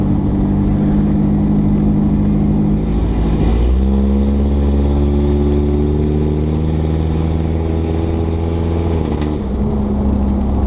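A Hyundai Sonata engine running rich and breaking up, revving loud and close with a sustained uneven drone that climbs in pitch mid-clip and drops back near the end, no voices.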